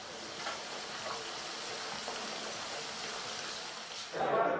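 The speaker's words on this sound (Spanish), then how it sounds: "aquí se está friendo pescado" Fish frying in a village kitchen, giving a steady, even sizzling hiss throughout that swells briefly louder and closer near the end.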